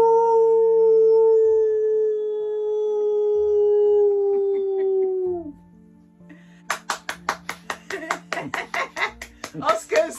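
Person imitating a dog howling, a long drawn-out wavering howl that slides down and ends, followed by a rapid run of sharp claps or snaps.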